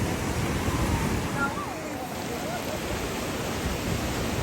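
Steady roar of surf washing on Shrivardhan beach, mixed with wind buffeting the microphone and a faint voice in the background.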